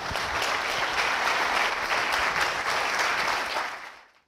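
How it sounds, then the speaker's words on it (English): An evening lecture audience gives a speaker a warm welcome, dense sustained clapping that holds steady and then fades out at the end. "help me welcome him with a very warm applause"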